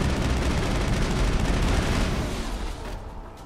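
Dense gunfire in the video game Mass Effect, during a battle on Eden Prime, crackles in a loud, continuous burst before tapering off near the end.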